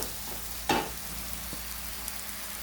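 Onions fry in a pan while ginger and garlic go in, a soft steady sizzle with one sharp burst of hiss as the ingredients hit the oil and a faint clink afterward.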